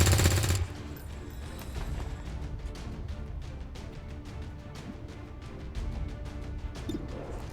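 Squad gunfire in the XCOM 2 video game, a loud burst up front followed by a run of sharp rapid shots and crackling impacts over a continuous low rumble of game sound.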